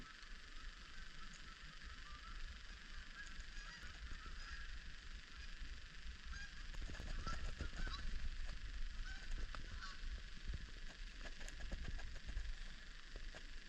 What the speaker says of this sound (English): There's a flock of birds